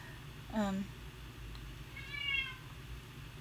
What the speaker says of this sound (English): Can you hear my cat? He's kinda lonely because I guess we're ignoring him.